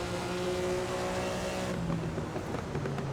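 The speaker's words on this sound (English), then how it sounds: "Maserati 250F 6-cylinder." A Maserati 250F six-cylinder racing engine in the game Assetto Corsa, droning steadily at high revs, then easing off as the tone drops partway through, loud and continuous without talk.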